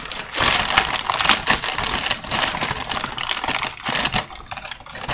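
Thin plastic mailer bag being crinkled and ripped open by hand, busy crackling and tearing close by in irregular bursts, with no talking.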